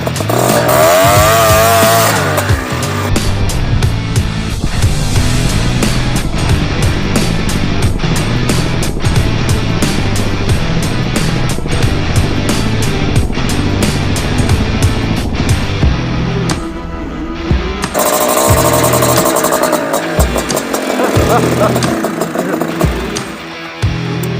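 A Honda Odyssey FL350 buggy's engine revs hard and loud up close with the wheels spinning, a raspy, buzzing roar that stays high for a long stretch, then drops briefly before surging again.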